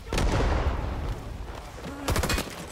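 Gunfire in the video game Rising Storm 2: Vietnam, an opening burst of heavy, rumbling shots that fades away, then a second sharp volley near the end, loud and close.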